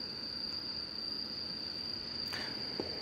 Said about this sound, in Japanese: 虫の音色、まあ、スズムシっていうのかな？ まあ、秋によく鳴くような虫、虫の音色がね、聞こえてきて